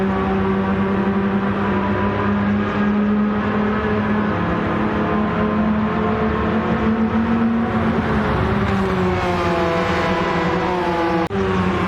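A Porsche race car engine lapping Spa in the racing game Gran Turismo 7, one loud, sustained harmonic drone that rises and falls in pitch with shifts and throttle changes, near and continuous, with no talking.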